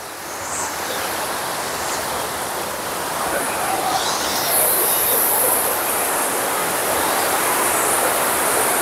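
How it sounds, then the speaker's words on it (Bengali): Water released from Bindu Barrage in Kalimpong rushes down the river in a loud, steady, broadband roar that fills the whole stretch without letting up. "ব্যারেজ থেকে ছেড়ে দেওয়া জলটা"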